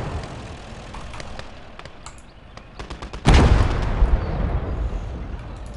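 Artillery and gunfire in the World War II strategy game Gates of Hell: Red Star Rising, with scattered distant shots building to a loud, heavy blast near the middle followed by a rumbling barrage and continued firing.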